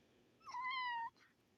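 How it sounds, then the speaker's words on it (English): One clear, drawn-out meow from a two-month-old kitten, close by and fairly quiet, followed by a short soft sound. "he keeps coming up and meowing on me too"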